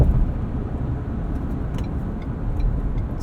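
A 2019 Ford Ranger Supercab 4x4 Lariat with a 10-speed automatic accelerates, its engine a loud, low, steady rumble heard from the cabin, with no talking.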